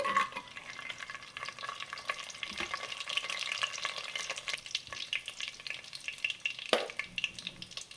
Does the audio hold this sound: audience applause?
no